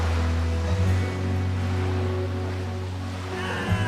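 Big storm waves and surf churn on open water around a boat, a steady, loud rushing wash with low rumble and gusty wind throughout, no voices.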